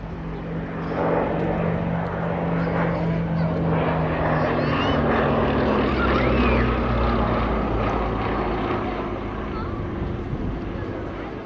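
A vintage propeller aeroplane in 1941 No. 225 Squadron colours flies at the East Kirkby airshow, its engine drone loud and sustained throughout, with a spoken voice layered over it.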